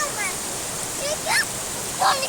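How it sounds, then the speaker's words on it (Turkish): Water pours down the Yedi Göz waterfall on the Aladağ plateau in Adana as a steady, close rushing hiss, with brief voices and chirpy calls rising above it. "sonuçta burası şelale"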